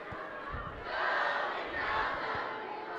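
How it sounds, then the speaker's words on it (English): Crowd noise from Notre Dame Pride fans at a high school football game, a sustained roar that swells around the middle and eases slightly, with faint thumps beneath. "Pride crowd getting into it."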